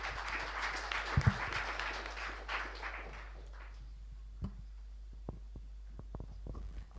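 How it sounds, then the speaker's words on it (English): A conference audience applauds the panelists at the close of a discussion, a fairly faint, dense patter of clapping that gradually thins out over several seconds into a few scattered claps and quiet room noise. "a big hand of applause to everybody"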